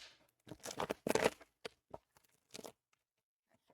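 Tarot cards being shuffled during a reading, giving soft papery riffles and slaps in a few short bursts, close and fairly quiet, with brief pauses and no talking.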